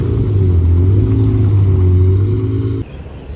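A manual Lamborghini Murcielago with its nose lift raised, being loaded onto a car transporter, holds a loud, steady, deep engine rumble up close before it abruptly drops away.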